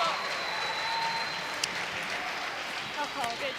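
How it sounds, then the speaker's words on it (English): Applause rises from the crowd at a women's curling gold medal match between Russia and Scotland at the 2015 European Championships, a steady distant clatter of clapping across an arena with faint voices mixed in. "Crowd appreciating the sweep there and the final position."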